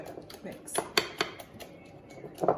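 Spinach, spring onion and feta quiche mixture being mixed in a bowl, giving close, irregular clinks and scrapes of a utensil against the bowl, with a few sharper knocks.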